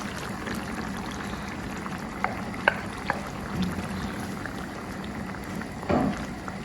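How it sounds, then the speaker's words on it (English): A Ghanaian palm oil stew with dry herrings simmers as fresh tomatoes go in: a steady low bubbling hiss with a few soft plops and clicks, and a fuller splash near the end. "Let's go ahead and add the fresh tomatoes."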